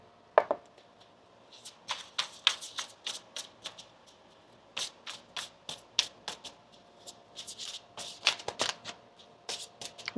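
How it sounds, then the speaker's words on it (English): Tarot cards are shuffled by hand in a long run of crisp, rapid riffles and soft slaps, close and clear with no talking. "Let's get one more shuffle here."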